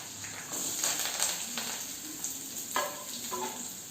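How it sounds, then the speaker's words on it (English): Chopped onion stir-fried with chopped ginger and garlic in a hot pan, giving a continuous close sizzle broken by a few quick scraping stirs. "Give a quick stir."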